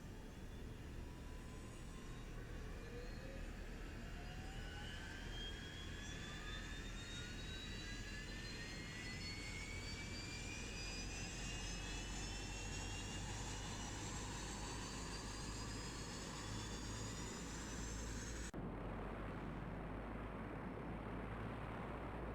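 Engine number 1 of a Dash 8 Q400 turboprop spools up in the X-Plane 10 simulator, a steady loud roar with whining tones rising in pitch over many seconds before cutting to a duller hum.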